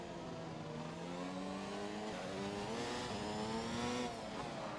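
F1 car engine at full throttle in the F1 2021 video game, a continuous high-pitched whining drone with rising gear-pitch sweeps and shifts, steady and loud throughout.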